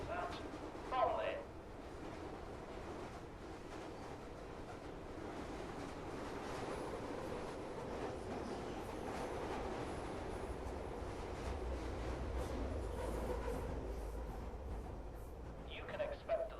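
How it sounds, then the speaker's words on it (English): A London Overground train bound for Bromley rumbles steadily along the track, a continuous broadband roar with a deeper low rumble building toward the end, and brief voice-like sounds near the start. "This is the London Overground service for Bromley."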